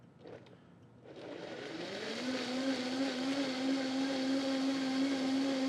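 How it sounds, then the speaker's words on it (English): A blender whirs up to full speed and holds a steady high motor whine while it purees peri peri sauce ingredients with garlic, close and loud after a brief start-up rattle, with no voices. "you're going to want to cover it and basically just puree this until it's nice and incorporated"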